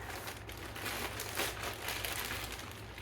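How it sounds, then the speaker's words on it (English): A shrink-wrapped plastic bag is cut open: quiet, continuous crinkling and rustling of plastic close by, with soft irregular scraping throughout. "the first thing is this bag that's shrink wrapped, so I'm going to cut it open"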